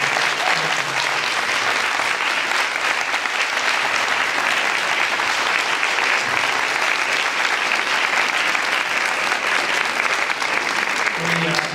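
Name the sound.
audience applause for the educators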